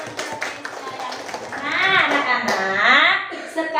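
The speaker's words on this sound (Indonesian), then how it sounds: "Oke, tepuk tangan untuk Rizka." Schoolchildren in a classroom clap for a classmate named Rizka, a short burst of scattered hand claps at the start that gives way to children's voices and chatter.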